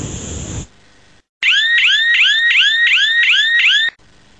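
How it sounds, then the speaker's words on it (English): A loud anti-masking alarm from a Fedom Maximum Curtain outdoor microwave sensor whoops in rapid repeating rising tones for a few seconds after a short burst of spray hiss and a pause. "the system will alert you with an alarm even when unarmed"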